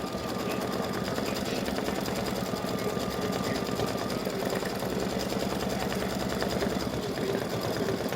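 An embroidery machine stitches an in-the-hoop mug rug side panel with a Valentine gnome design, a fast, steady mechanical rattle of needle strokes running continuously at close range.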